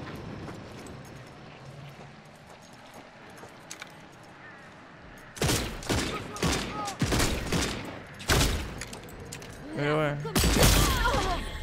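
Gunfire and sniper shots in the video game Redfall: quiet ambience at first, then a run of loud sharp shot bursts with ringing tails, with someone speaking briefly between them.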